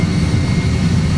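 Jet airliner engines at takeoff thrust with manual flex 40 set: a loud, steady low roar and rumble heard close from inside the aircraft, with no speech.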